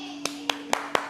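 Four crisp hand claps in a steady rhythm, close and distinct against a quiet room, during a children's dart game.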